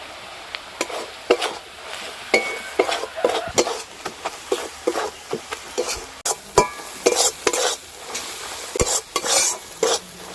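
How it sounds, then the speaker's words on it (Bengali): Onion, ginger, garlic and ground turmeric, chili and cumin being fried together in a pan for a river fish curry, with steady sizzling under repeated scraping stirs and utensil clatter against the pot. "সব মশলা খুব ভালো করে কষে নিয়েছি"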